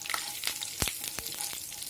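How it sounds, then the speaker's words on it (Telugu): Chana dal, urad dal, mustard seeds and cumin seeds fry in hot oil for a tempering, a close steady sizzle broken by a few sharp pops and crackles as the seeds burst, with no talking. "ఆయిల్ వేడయ్యాక శనగపప్పు, మినపప్పు, ఆవాలు, జీలకర్ర అండి అన్నీ కలిపి ఒక చోట తీసుకుని వేస్తున్నాను."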